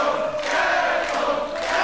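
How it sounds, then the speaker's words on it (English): Unbroken wall of cheering from an Unlimited Wrestling crowd, dense and loud throughout, with shouts and whistles rising out of the roar. "This crowd is bonkers."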